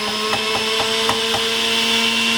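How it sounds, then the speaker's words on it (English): A juicer grinds apples with a loud, steady motor hum and whine, broken by a few quick rhythmic thuds as fruit is pressed against the blade, no voices. "Let it try to grind out whatever it can out of the apple to get everything it can out of it"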